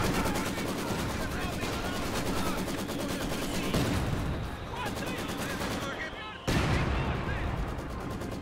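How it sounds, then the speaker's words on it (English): Heavy gunfire and explosions from a Company of Heroes 2 multiplayer battle on the Road to Kharkov map, with machine-gun bursts and mortar impacts filling the mix, a sharp loud blast near the end, and a player talking over the game sound. "Ilipat Justin yung machine gunner mo kasi minomortar"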